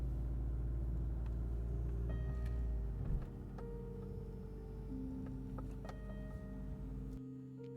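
A BMW E30 M3 car is driven slowly inside, its engine a low steady rumble that drops after a few seconds, with faint clicks and ticks scattered over it before it cuts off at the end.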